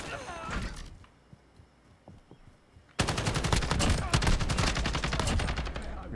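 Video game gun fires a short burst, goes quiet for a couple of seconds, then lets loose a long, loud, rapid automatic stream of shots that runs to the end.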